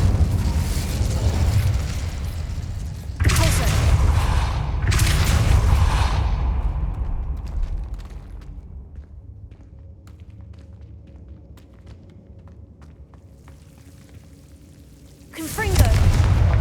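A fire spell cast in Hogwarts Legacy gives two loud, close whooshing bursts, followed by a long quieter stretch with a low hum and a final burst near the end.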